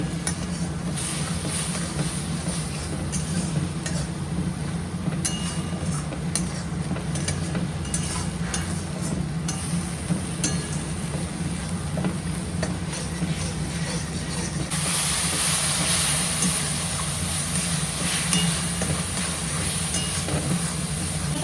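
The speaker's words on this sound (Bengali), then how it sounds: "দিয়ে এবার মশলাটা সুন্দর করে ভাজবো, যতক্ষণ না তেল ছাড়ছে সুন্দর করে কষবো।" Spice paste with turmeric frying in oil while being stirred, for a Bengali yam, shrimp and fish curry, makes a steady broadband sizzle, continuous and fairly loud, growing a bit brighter toward the end.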